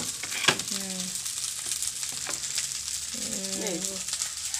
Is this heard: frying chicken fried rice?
yes